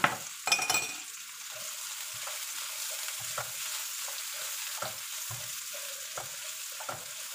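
Garlic sizzles steadily in hot oil in a frying pan, a continuous close hiss broken by periodic scrapes and clinks as it is stirred, with a louder clatter near the start.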